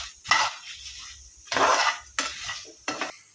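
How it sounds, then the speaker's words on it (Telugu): A spoon scrapes and stirs cumin, coriander and dried red chillies roasting in oil in a metal pan, in four loud bursts of clatter and sizzle separated by quiet gaps. "ఇప్పుడు తిప్పుకోవాలి."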